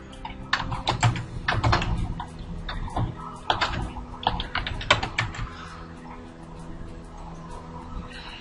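Fingers type a new project name on a computer keyboard, close and fairly loud clicking in quick uneven bursts with short pauses, fading to a quieter steady hum toward the end.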